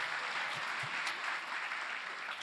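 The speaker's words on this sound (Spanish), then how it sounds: "Si van a aplaudir, aplaudan al tiempo" An audience at a pastor's sermon applauds continuously, a dense, even wash of clapping from many hands held at a steady level for the whole stretch.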